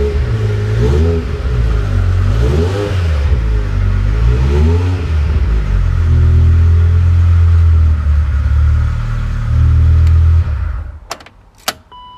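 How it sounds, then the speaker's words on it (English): A BMW E39 M5 fitted with a swapped S85 V10 runs loudly nearby, its note rising and falling through several blips before settling into a steady idle, then cutting off abruptly near the end with a few faint clicks. "so yeah, there's obviously the engine running."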